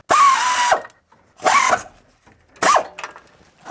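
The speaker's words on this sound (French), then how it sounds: "Bon, je reprends mon cliquet pneumatique." A pneumatic ratchet tightens engine mount bolts during an engine mount replacement on a car, firing in three loud, close bursts of whirring and rattling with short silences between them.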